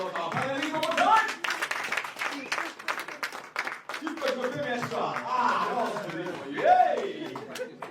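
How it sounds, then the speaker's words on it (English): Applause and cheering from a conference audience for a panel at a wealth and real estate summit in London, clapping mixed with chatter, laughter and nearby voices throughout. "A round of applause for our panelists one more time"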